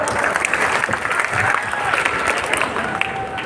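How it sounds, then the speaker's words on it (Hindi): Audience at a comedy show during a district festival in Kanpur Dehat applauding steadily, a dense crackle of many hands clapping with some crowd murmur and voices underneath. "जोरदार तालियां"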